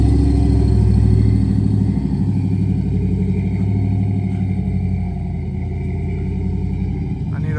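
Truck engine of a burnout truck idling and running close by, a steady deep rumbling drone with a lumpy pulsing beat that eases slightly in loudness over time.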